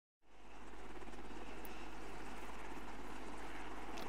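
A low-flying helicopter sets in abruptly with a loud, steady, close rotor and engine roar that holds without a break.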